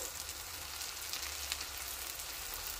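Pointed gourd (potol) frying with onions in a pan gives off a steady, dense sizzle that carries on without a break at moderate loudness, with no voices over it.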